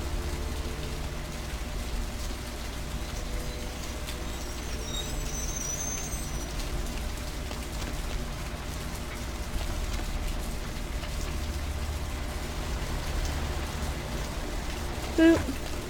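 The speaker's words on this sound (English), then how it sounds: "Beautiful rain." Steady night rain falls in Vampire: The Masquerade - Bloodlines, a constant soft hiss of drops on the street that runs for the whole stretch, with a brief louder knock near the end.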